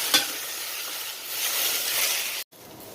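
Okra and bitter gourd sautéing in a hot pan for a Palakkad-style roasted tamarind curry, a steady frying sizzle with light stirring scrapes that cuts off abruptly near the end.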